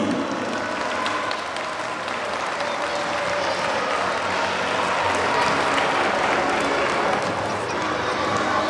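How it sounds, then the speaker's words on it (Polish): A youth football tournament closing ceremony, the audience applauding a fourth-place team. Sustained, dense clapping carries from a large crowd, with cheering voices mixed into the steady wash. "Proszę o klaski."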